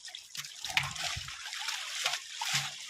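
Water trickles and splashes into a long pond beside a canal, with light dribbling and splattering at moderate distance and brief low voices in the background.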